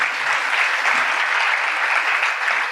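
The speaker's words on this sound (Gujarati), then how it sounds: "જરા એક વખત દાદાને તાળીથી વધાવીએ" A seated audience at a spiritual talk on family life applauds an elderly man, giving a dense, even wall of many hands clapping, loud and sustained throughout with no voices on top.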